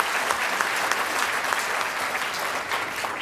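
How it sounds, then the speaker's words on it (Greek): Dense, steady applause from a crowd at a Communist Party of Greece (KKE) campaign event for the European elections, filling the space evenly throughout with no voices above it. "Και θέλω να τη χειροκροτήσω."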